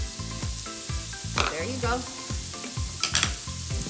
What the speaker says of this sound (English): I'm just gonna saute this until the onions and veggies kind of soften up